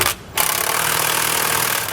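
Power tool driving a 19mm socket on a swivel and short extension, tightening underbed kit hardware in the bed of a 2018 Chevrolet Silverado; a brief pause, then a loud continuous rattling whir close by for over a second and a half.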